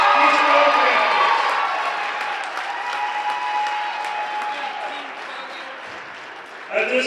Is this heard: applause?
yes